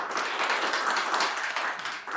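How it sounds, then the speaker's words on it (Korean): Steady applause from an audience at a Korean public debate forum on zero-waste shops, welcoming a presenter to the stage; dense, even clapping lasting about two seconds, with no talk over it. "박수 모시겠습니다"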